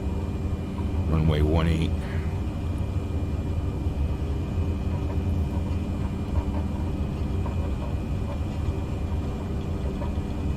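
Steady airliner engine roar during a go-around in Microsoft Flight Simulator 2020, a continuous low rumble lasting throughout while a voice talks over it briefly.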